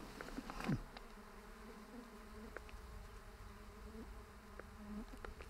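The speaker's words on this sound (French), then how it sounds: "j'espère que c'est pas ces mêmes mouches qui m'ont bouffé l'autre fois" Flies buzzing around on the Transcaucasian Trail in Armenia, a steady faint insect drone with one closer fly swooping past early on, quiet outdoor ambience and no voices.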